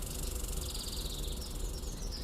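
Tree frogs chirp at night in a constant, high, pulsing trill that fills the background, steady and even throughout with no voices.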